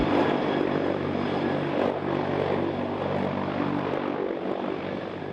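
CH-53K King Stallion heavy-lift helicopter in a Marine Corps test, its engines and rotors giving a loud, steady, dense roar that holds evenly throughout with no talk.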